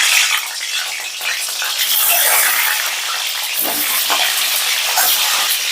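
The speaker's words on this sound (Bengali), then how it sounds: "তেলটা গরম হয়ে গেলে দিয়ে দিলাম ডিমগুলো" Steady, loud sizzling and crackling of eggs frying in hot oil, a continuous hiss that stays close throughout.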